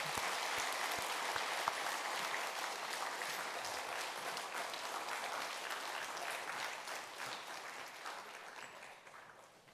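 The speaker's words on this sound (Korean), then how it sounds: "우리 이분들 위해서 뜨겁게 우리 격려하고 박수하십시오" A church congregation applauds during a Sunday worship service honoring parents, steady dense clapping that fills the room and holds for nearly ten seconds before easing off slightly at the end.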